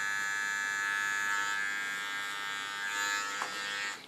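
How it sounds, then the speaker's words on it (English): Small electric hair clipper trimming the contour line of a haircut in a salon, a steady close buzzing hum with slight changes in pitch as it moves along the hairline. "with my small clipper, I clean the contour line so it's clean."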